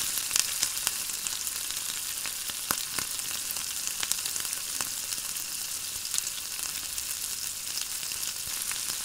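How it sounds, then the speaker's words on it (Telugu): Ridge gourd pieces fry in a pan with softened tomatoes, giving a continuous moderate sizzle with scattered light pops and crackles, steady and close with no voices. "ఇప్పుడు బీరకాయ ముక్కలు యాడ్ చేసుకుందాం"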